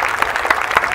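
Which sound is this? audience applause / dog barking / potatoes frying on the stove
audience applause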